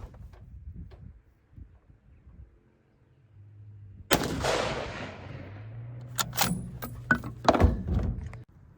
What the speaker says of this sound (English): I'm going to continue to shoot it.